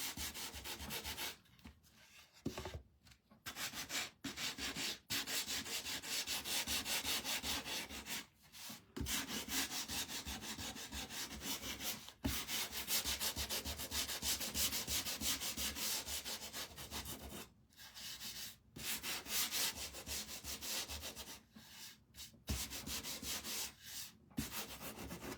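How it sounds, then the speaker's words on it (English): Sandpaper rubbing back and forth over small painted wooden watermelon crow craft pieces, a steady close scratchy hiss running almost continuously in long strokes, broken by several brief pauses. "try and sand each one of these"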